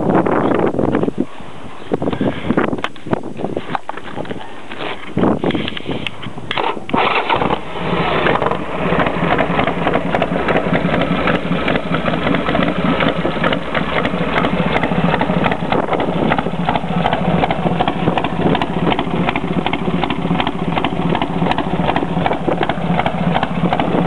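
A 1987 Harley-Davidson Sportster motorcycle engine cranks with sputtering bursts, catches after several seconds, then settles into a steady, loud, rumbling exhaust idle that continues throughout.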